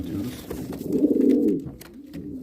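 Homing pigeons coo nearby with soft, throaty rolling calls that swell and fade, while faint background noise continues around them.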